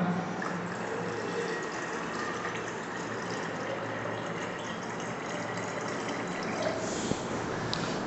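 Chilled water pours steadily into raw mango syrup in a home kitchen, a continuous close liquid gush and fill that runs unbroken for several seconds at even loudness, with no talk over it.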